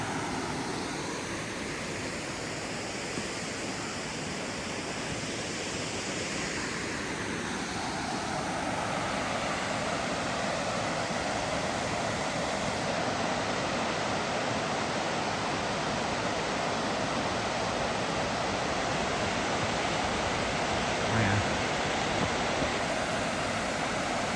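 Water pours steadily over an old stone weir in Sheffield's Rivelin Valley, a loud, continuous rushing roar that stays close and unbroken throughout.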